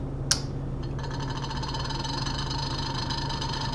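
A magnetic stir plate spins a magnet on a wheel to stir a yeast starter for a Mr. Beer Classic American Light refill, giving a steady close motor whir with a faint high whine, preceded by a brief click.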